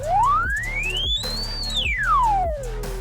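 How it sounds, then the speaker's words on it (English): A tone generator phone app plays a steady test tone that sweeps smoothly upward, peaks, then glides back down, loud and clean over a low, pulsing background hum. "The first thing you need is a tone generator app."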